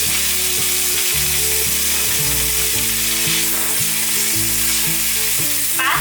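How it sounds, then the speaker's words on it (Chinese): Straw mushrooms and enoki mushrooms stir-fry with carrot in a hot pan, giving a loud, continuous sizzle broken by repeated rhythmic scraping strokes of the spatula, with no talking. "把草菇和金针菇炒软，炒出水分。"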